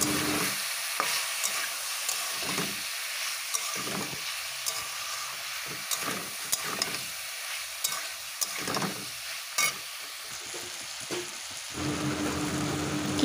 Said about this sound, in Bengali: এর মধ্যেই দিয়ে দিলাম সেই সেদ্ধ করা কচুটা দিয়ে বেশ কিছুক্ষণ ভালো করে কষাবো